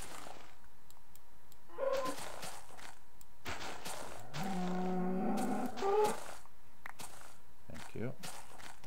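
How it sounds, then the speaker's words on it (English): A cow moos in the video game Minecraft, a drawn-out low call near the middle among footsteps and game sounds, with someone talking around it. "Come here, Mr. Cow."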